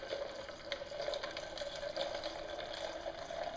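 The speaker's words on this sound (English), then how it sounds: "I go ahead and fill it up with cold water." Cold water pours steadily from a tap into a glass of ice, a soft continuous rushing and trickling at low volume.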